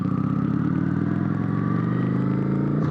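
Kawasaki Vulcan 900 motorcycle cruising through city streets, a steady low engine drone with continuous mid-range rumble and faint mechanical clatter, close and constant with no pauses.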